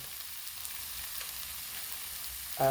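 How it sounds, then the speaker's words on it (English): Portobello mushrooms, broccoli and teriyaki baked tofu searing in a pan, a soft steady sizzle with faint crackles, ending with a brief louder clatter. "And I'm just searing it on the pan"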